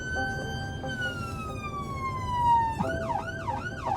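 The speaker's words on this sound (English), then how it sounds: "I've switched onto close combat siren" Ambulance siren switched into close combat mode: a long falling wail shifts abruptly into a rapid, urgent yelp pattern, loud and close over a low vehicle rumble, with no talking.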